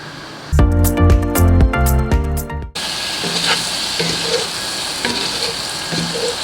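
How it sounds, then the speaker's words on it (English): Sausage fries in a pan with a steady close sizzle and light spattering pops. A loud burst of tonal music plays over the first couple of seconds before the frying carries on alone. "While my sausage is cooking, I put some butter."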